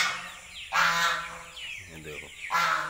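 Several loud, nasal honks from small young ducks come in short bursts, close by, with a brief quieter stretch between calls.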